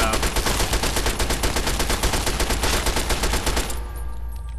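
Rapid automatic fire from a submachine gun in Fallout 3, a dense, loud run of evenly spaced shots lasting several seconds before cutting off abruptly to a quieter game ambience.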